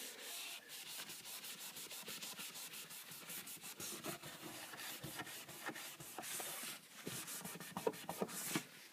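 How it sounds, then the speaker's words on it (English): Rhythmic rubbing of a cloth with lemon essential oil over a wooden surface to lift crayon marks, steady close scrubbing strokes with a dry, sanding-like texture and no talking. "I'm just going to rub on the wood"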